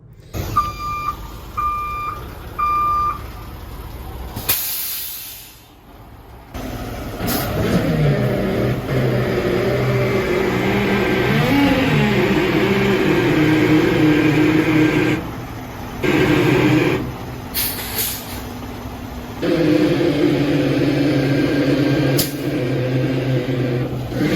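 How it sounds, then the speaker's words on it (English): Truck delivering gravel for a new driveway, with reversing beeps at the start followed by a loud, sustained engine rumble and grinding that pauses briefly twice, close and without talk. "we got all that gravel delivered this morning. I took a little bit of a clip of it so I can insert that here."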